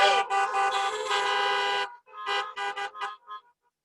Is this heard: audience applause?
no